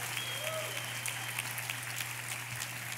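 A graduating class of 2017 claps for itself at a commencement ceremony, steady applause spread evenly across the clip beneath a low constant hum, with no one speaking.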